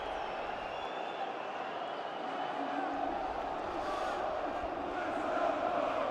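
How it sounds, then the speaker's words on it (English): A stadium crowd at a third-division football match between Kaiserslautern and Duisburg roars with jeers, a broad sustained mass of voices swelling toward the end, while a commentator talks over it. "Jeers from the crowd"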